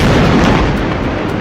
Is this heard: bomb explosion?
yes